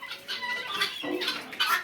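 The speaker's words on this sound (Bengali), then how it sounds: "এই যে দেখতে পাচ্ছেন এগুলো অরিজিনাল জাহানি কুয়েল পাখি" Japanese quails on a farm in Bakshiganj, Jamalpur give a quick run of soft, chirping calls and clucks, close up and fairly faint, lasting under two seconds with no talking.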